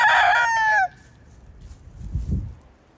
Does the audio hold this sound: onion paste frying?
no